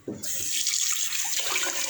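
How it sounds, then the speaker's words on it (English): Tap water runs steadily into a kitchen sink as rice is rinsed for a Jamaican curry pork meal. A brief start gives way to a continuous, close splashing stream with no talk. "So you really wash this rice here till you see water clear."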